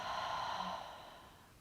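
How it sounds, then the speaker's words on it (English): During a morning yoga flow, a single soft breath is pushed out through the mouth, a close airy exhale that fades away over about a second and a half. "Hold the breath and exhale out through the mouth."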